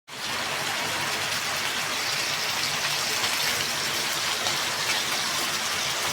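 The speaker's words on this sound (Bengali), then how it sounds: "আমার রান্নাঘর কি সুন্দর বৃষ্টি হতেছে" Steady, loud rain pours down outside a kitchen, a dense, even hiss that continues without pause.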